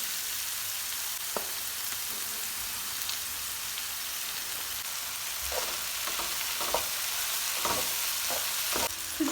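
Sliced peppers and sucuk sizzle in a pan, a steady soft frying hiss with scattered small clicks and scrapes from stirring, close but fairly quiet, with no talk.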